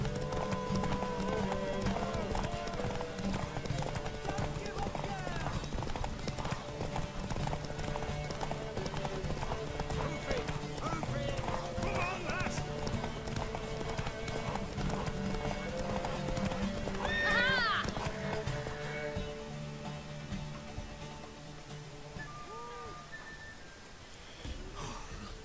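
Horse hooves clip-clop steadily in The Witcher 3, with neighs and snorts from the mare, while game characters speak over the hoofbeats.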